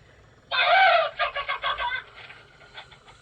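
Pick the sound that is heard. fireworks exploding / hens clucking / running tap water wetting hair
hens clucking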